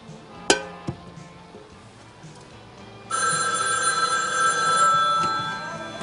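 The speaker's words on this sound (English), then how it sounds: "Hark, I hear a phone ring." A telephone bell rings in a sustained, bright electric trill after a couple of faint clicks and knocks at the start.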